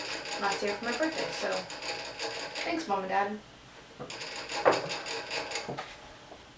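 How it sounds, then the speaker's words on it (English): A pet rat in a metal cage makes rapid metallic clicking and rattling in the background, rhythmic bursts that continue beneath someone talking nearby. "If you hear any noise in the background that sounds like metallic clicking, that would be the rat."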